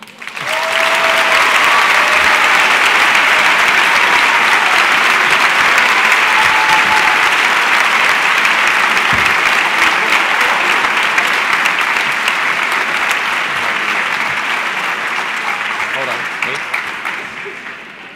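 Sustained applause from a graduation audience, a dense wash of many hands clapping loud and steady for a long stretch with scattered cheers and voices, tapering slightly at the end.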